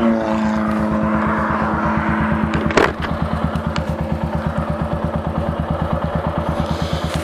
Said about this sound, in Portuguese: vamos pegar a pista, a gente vai acelerar com força e vai ver quanto ela atinge